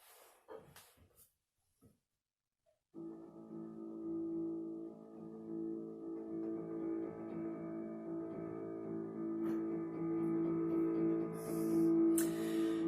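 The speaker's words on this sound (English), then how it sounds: "And on my keyboard, a long continuous drone could sound like this." A few soft knocks and rustles, then a steady sustained keyboard drone enters and holds for about ten seconds, low and continuous.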